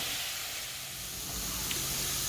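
Onions and carrots cook in a pot for pasta e fagioli, giving a steady soft hiss and sizzle, faint and continuous with no talk.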